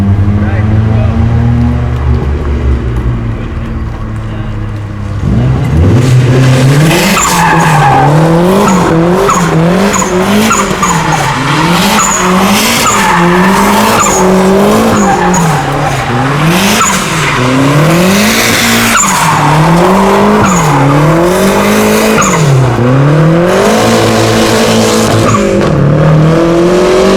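A Mazda Miata drift car is driven hard, its engine revving up and down in loud, rising and falling wails with tire squeal during a drift run, close and intense throughout, with people talking over it.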